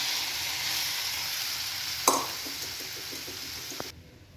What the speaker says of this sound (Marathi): याच्यामध्ये आता गरम के मी गरम करून घेतलेलं पाणीही ओतणार आहे